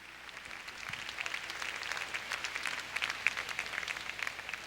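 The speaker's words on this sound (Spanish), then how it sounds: "recibimos a Ramón con un fuerte aplauso" A congregation gives a warm round of applause at a church service. The clapping is steady and moderately distant and keeps up throughout.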